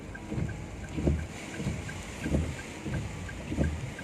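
Strong wind buffeting at a toll gate in Weleri, gusting in repeated low rumbling surges against the microphone with a steady hiss between blasts.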